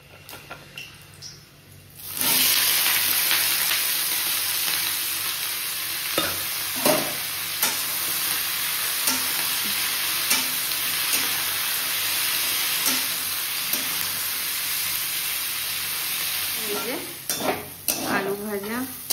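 Cut potatoes hit hot oil in a wok after a quiet start, bursting into a loud, steady sizzle with intermittent stirring clinks and scrapes that grow busier toward the end.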